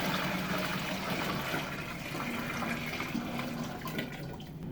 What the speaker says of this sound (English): Let's get some water in here and start it heating up